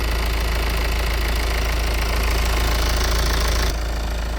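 A Peugeot 508 II's 2.0-litre BlueHDi diesel engine idles steadily nearby with a rhythmic knocking clatter and constant low rumble.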